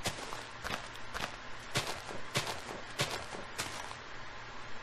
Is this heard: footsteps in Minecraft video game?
yes